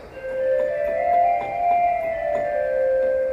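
Soft, breathy pipe organ flute stop holds a gentle sustained melody with slight swells, mellow and pure, played alone with no voices.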